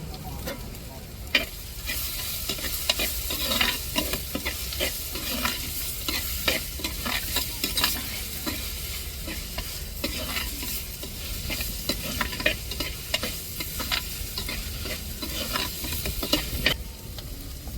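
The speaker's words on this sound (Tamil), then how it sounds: "இப்போ வெங்காயம் நல்லா வதங்கிருச்சு." Onions sauté in a pan with chillies, loud continuous sizzling broken by frequent scraping and clattering stirs from a spatula throughout, close up with no voices.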